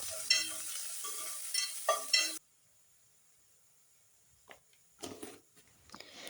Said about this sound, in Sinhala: මේකට තලාගත්ත ඉඟුරු සුදු ලූණු එකතු කරලා ඒ වගේම රම්පෙ කරපිංචා මේ ටිකත් එකතු කරලා ටෙම්පරාදු